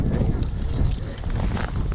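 Strong wind on a frozen lake while ice fishing buffets the microphone in a constant low roar, gusting unevenly throughout.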